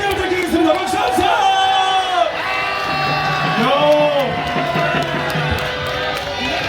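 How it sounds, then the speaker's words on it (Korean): An outdoor political rally crowd in Yeouido, Seoul cheers and shouts loudly and continuously, with whoops and raised voices layered over a dense crowd roar; any applause is buried under the cheering throughout. "여러분들 박수 한번 크게 부탁드리겠습니다."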